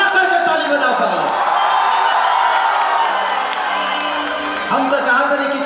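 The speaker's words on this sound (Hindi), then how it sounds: "जोरदार हल्ला करके ताली बजाओ पगला" A large outdoor crowd at a festival stage show claps and cheers, a loud, continuous wash of applause and shouting with a public-address voice and faint music layered over it.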